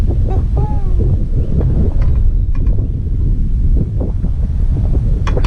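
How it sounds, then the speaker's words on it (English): Strong wind buffets the microphone outdoors beside a steak cooker in a continuous low roar, with faint bird calls and small knocks in the background. "it's really windy today"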